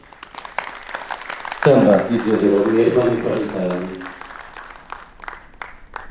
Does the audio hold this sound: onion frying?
no